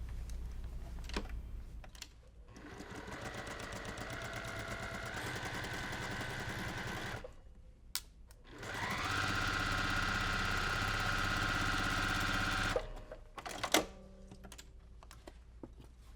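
A sewing machine stitches a quilt chain unit in two sustained runs of steady, fast mechanical whirring with a short pause between, close by and alone, with no voices.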